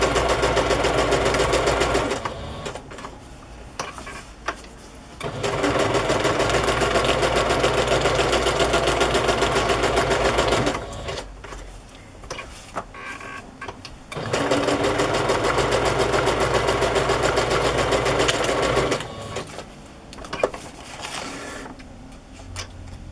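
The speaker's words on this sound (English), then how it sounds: "I want to do a straight stitch here." A sewing machine runs a straight stitch through pink and gray plaid fabric for vintage journal pockets. It stitches in three steady, close bursts separated by short pauses.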